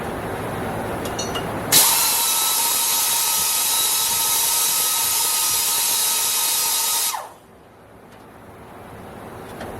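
A drill bores offset holes into an engine block for head bolts on a Ford or LS build, a loud, steady high-pitched whine starting abruptly, running about five seconds, then cutting off and fading to quiet.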